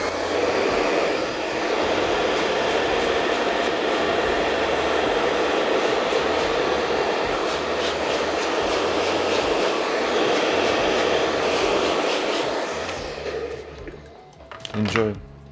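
A hair dryer blows on a customer's hair in a barbershop after a classic scissor cut, a steady, loud whooshing hiss that holds for about thirteen seconds before cutting off, with brief voices afterward.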